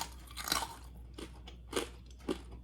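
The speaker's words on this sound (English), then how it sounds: "Let's hear this crunch." Crisp skin of air-fried Chinese roast pork belly (siu yuk) crunches between the teeth: several sharp, close bites spread across a couple of seconds, each a brittle crackle with quiet pauses between.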